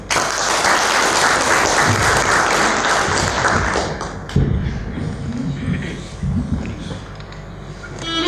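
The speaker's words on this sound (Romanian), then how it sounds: "să-i aplaudăm pe acești minunați copii" An audience applauds a group of child singers on a Romanian family show: dense, loud clapping that thins and fades after a few seconds into scattered claps, taps and thumps.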